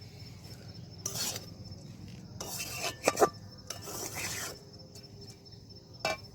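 A Joynagar moa sweet mixture moistened with date palm syrup is worked by hand, giving soft, close scraping and rubbing bursts in an irregular rhythm over a low background hum.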